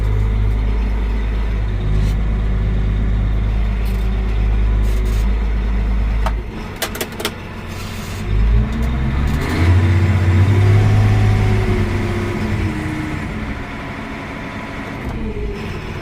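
Vehicle engine running with its exhaust pressure filter removed and a filter sensor fault, a loud steady idle rumble that drops, then revs and pulls away as the vehicle drives off.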